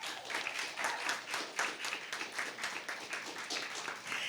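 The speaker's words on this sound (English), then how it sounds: "I think I could hear some more applause coming from" A school debate audience applauds after a student's speech in a competition round, a steady, full burst of clapping throughout with no talk over it.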